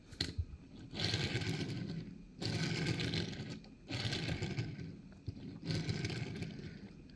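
Wheels of a Matchbox 2023 Nissan Z toy car rolling, with a wobbly rear wheel, in four separate runs, each a close, buzzing rumble lasting about a second and a half and separated by brief pauses.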